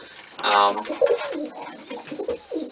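A female pigeon with feathered feet gives several soft, throaty coos close by while being held in the hand, with faint rustling and a brief voice in the background.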